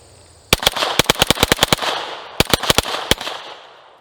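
Glock handgun fired rapidly with a G Flex binary trigger: a fast string of sharp, loud outdoor shots in two bursts, about twelve and then six cracks, with ringing echoes between them.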